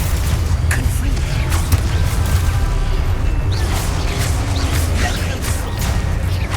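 Spell blasts and explosions in Hogwarts Legacy make dense, continuous rumbling booms and bursts, loud and close, with repeated sharp impacts layered over heavy low-end noise.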